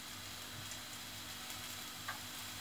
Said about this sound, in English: I'm just going to pop them in with the mushrooms now to cook off.